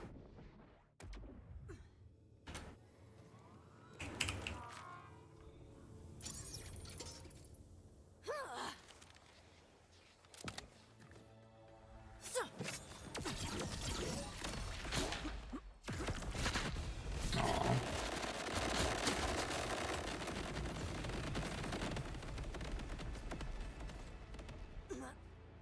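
The Chaos SMG fires in Borderlands 4 in bursts of rapid gunfire amid explosions and game effects, starting in choppy clusters and building into a dense, sustained barrage toward the end.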